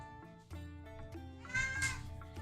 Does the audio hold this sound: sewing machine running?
no